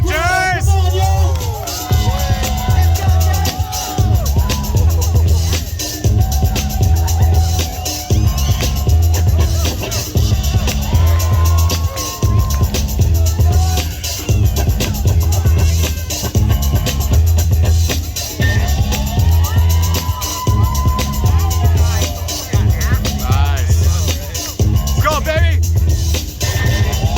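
A crowd at a breakdance battle makes noise with scattered whoops and cheers, all under loud, insistent music with a pounding beat and under a host's shouting voice, so the crowd stays in the background.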